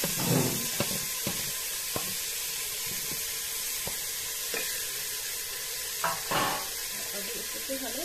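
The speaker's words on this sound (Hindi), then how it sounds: "अब इसमें जाएगा हमारा मटन, हमने मैरिनेट करके रखे थे।" Marinated mutton dropped into a hot pan with a little oil gives a low, steady sizzle, punctuated by faint clicks and scraping stirs.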